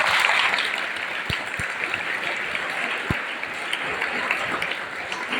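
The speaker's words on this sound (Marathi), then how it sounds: "तुमच्यासाठी एकदा जोरदार टाळ्या" An audience claps steadily at a Naradiya kirtan, a dense, even patter of hands with a few sharper claps standing out.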